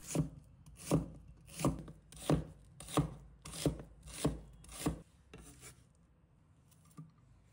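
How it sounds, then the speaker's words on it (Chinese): A knife slicing half an onion into thin shreds on a board, with seven even, rapid close chops followed by quieter scraping, no voices. "取出半个洋葱，快速切成纤细如发的丝状"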